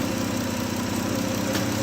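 Engine of a 2016 Dodge Grand Caravan idling smoothly and quietly after transmission work, a steady low hum and faint vibration holding at an even level throughout, with no voices.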